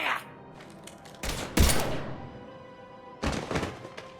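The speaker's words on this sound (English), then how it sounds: "Now open fire!" Gunfire in the video game Mass Effect 3: several sharp, heavy shots and thudding bursts come in quick clusters, loud and close over a steady background hum, with no talking during the shots.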